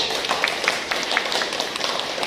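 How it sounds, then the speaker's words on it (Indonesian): Steady applause from a classroom of students during an Indonesian persuasive speech writing lesson, dense overlapping claps filling the whole moment at a fairly close distance, with no talk over it. "Tepuk tangan dulu"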